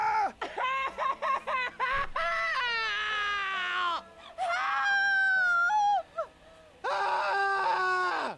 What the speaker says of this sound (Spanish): los gritos de dolor en la versión española no están nada mal